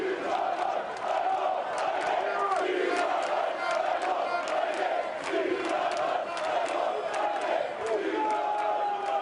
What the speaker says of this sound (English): Crowd really coming alive now